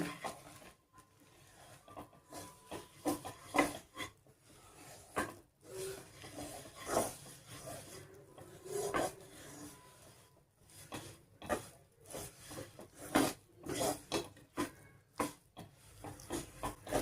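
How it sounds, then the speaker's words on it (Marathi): Desiccated coconut is stirred in a pan for coconut chikki. Soft, irregular scraping and rubbing strokes are heard close by but faint, with brief pauses and no talking. "आता यामध्ये घालूयात आपण 1 वाटी डेसिकेटेड कोकोनट आणि आता याला मिक्स करून घेऊ।"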